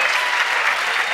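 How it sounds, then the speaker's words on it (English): A brief burst of audience clapping at a polo hall of fame induction ceremony, continuous and fairly loud, from many hands in a hall. "And a big round of applause for them."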